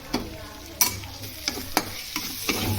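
Rice with soy sauce, red chilli sauce and vinegar sizzling in a pan for chicken egg fried rice, stirred with a utensil: a steady close sizzle broken by about six sharp scraping strokes, no talking.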